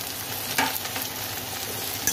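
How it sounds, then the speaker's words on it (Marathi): Chopped onion, tomato, cashews and green chilies frying together in a pan, giving a steady close sizzle with a couple of sharp stirring knocks against the pan. "हे बघा कांदा थोडासा फ्राय झालेला आहे"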